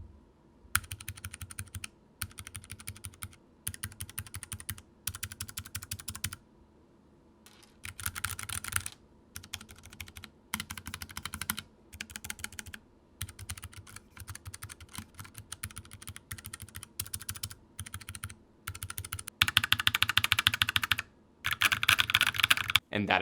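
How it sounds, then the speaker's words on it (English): Keychron K3 mechanical keyboard keys with brown switches clack in quick bursts of typing with short pauses between, close and fairly quiet, growing louder near the end. "Here is a sound test with the browns on it"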